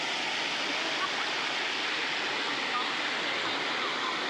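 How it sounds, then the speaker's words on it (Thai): Clear stream water pours over a waterfall at a new nature spot in Chiang Kham, Phayao, making a steady, loud, unbroken rushing hiss that fills the scene without pause. "น้ำใส ไหลเย็น นะครับ"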